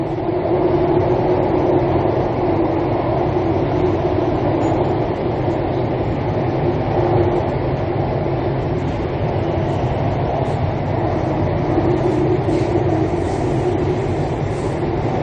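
A Bangkok subway train rolls along in a steady, dense rumble with a constant mechanical hum and faint rail clatter, heard from inside a carriage with no talking.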